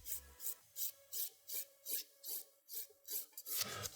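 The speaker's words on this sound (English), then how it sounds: "I'm only filing the cuticle area" A nail file rasps around the cuticle area of an acrylic nail in quick, even back-and-forth strokes, about two per second, close and soft, with no talking.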